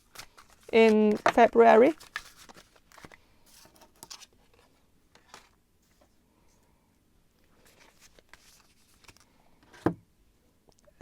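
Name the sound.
shuffling tarot cards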